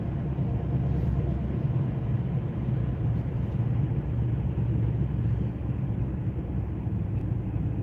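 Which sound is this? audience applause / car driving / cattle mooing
car driving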